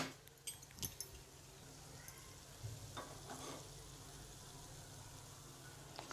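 Sweet mango rava appe roast in an appe pan over a low gas flame, giving a soft, steady sizzle with a few small clicks and taps against the pan.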